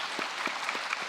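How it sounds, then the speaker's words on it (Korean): A church congregation clapping in praise during a Christmas sermon: a brief, steady patter of many hands with a few sharper claps standing out at a regular pace, fairly close and even in level. "성탄을 주신 우리 주님 앞에 영광의 박수를 올려드리겠습니다"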